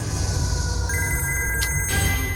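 A phone ringtone repeats steadily and close, with a steady background hum, as calls keep coming in.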